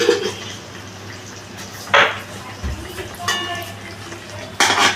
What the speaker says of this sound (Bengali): আবার একটু নাড়িয়ে নিচ্ছি